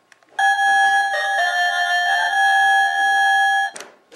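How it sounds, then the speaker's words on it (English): A 1994 Bandai Mighty Morphin Power Rangers Dragon Dagger toy sounding its first button effect, a loud electronic tonal chime held steady for about three seconds, slightly wavering, followed by a brief burst of noise. "Button sound number one."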